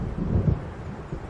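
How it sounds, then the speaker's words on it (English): A low, rolling rumble of thunder from an approaching storm in Alan Wake Remastered, soft and distant with a faint wash of rain behind it. "It seems there's a storm coming."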